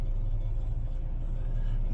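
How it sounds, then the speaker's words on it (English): A car with a rough, bad-sounding engine passes close by on a town road near a river bridge, a steady low rumble that holds loud and continuous for the whole moment. "Boy, that car sounds horrible."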